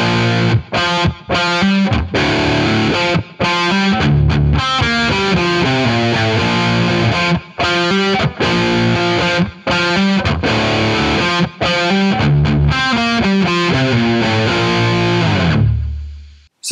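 Heavily distorted electric guitar in drop D plays a riff slowly and steadily, with loud, close chords and palm-muted runs in a repeating pattern with brief breaks for about sixteen seconds before the sound fades out.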